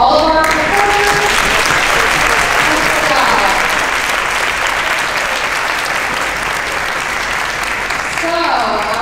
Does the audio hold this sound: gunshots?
no